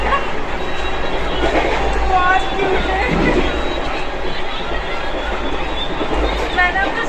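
A passenger train rolls along on the way to Delhi with a steady low rumble and rattle. Someone talks over it, and faint higher clatter is heard now and then.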